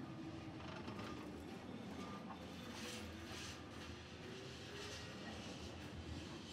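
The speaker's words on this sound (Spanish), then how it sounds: "este tranvía ahora está esperando que pase el otro" A vintage route 28 tram waits on a narrow street in Lisbon, with a continuous low rumble and faint rail clatter heard at a distance, quiet and without voices.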